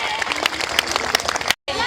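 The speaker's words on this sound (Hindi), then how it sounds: "जोरदार तालियां बननी होनी चाहिए आप लोगों की" Audience applause at a women's day street play, a dense patter of many hands clapping outdoors under crowd noise and voices, cutting off abruptly near the end before resuming briefly.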